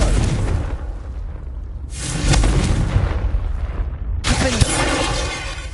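A Confringo blasting curse exploding in Hogwarts Legacy, heard as loud, near booming blasts with a sustained roaring burst that drops out and then returns, with no talk over it.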